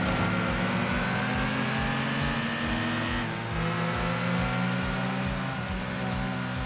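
A boxer engine in Gran Turismo 2 drones steadily with a throbbing, pulsing low rumble and a rising whine, held at high revs with a brief dip midway.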